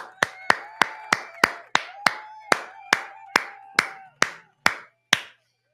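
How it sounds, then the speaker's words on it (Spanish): Single sharp claps repeat at an even pace, about thirteen distinct hits over a few seconds, loud and close with a short ring after each and no voices. "aplauso para acá"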